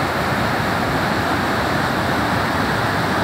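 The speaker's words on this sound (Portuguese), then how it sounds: "Olha só como é que tá a força da água aí, ó. Muita água descendo aí, ó." Water rushing over the spillway of the Quixeramobim dam in Ceará, Brazil: a loud, continuous broadband roar of heavy flow, steady and close, with no voices.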